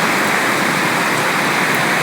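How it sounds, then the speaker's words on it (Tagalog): Steady roar of heavy rain falling around a house veranda in the Philippines, loud and continuous broadband hiss with faint drop patter and no voices. "Lakas yung ulan ngayon."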